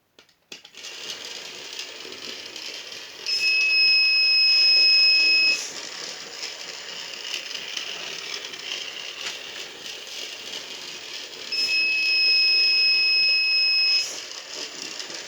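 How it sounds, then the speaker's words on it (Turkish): A high electronic buzzer tone from an Arduino ultrasonic-sensor safety alarm sounds twice, each burst lasting about two seconds, over a steady mechanical hum and rattle. "Ve buzzer'ımız ikaz vermeyi keser."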